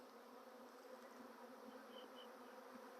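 A swarm of honey bees drones around a hive box, a faint, steady buzzing hum carrying on without pause and without voices.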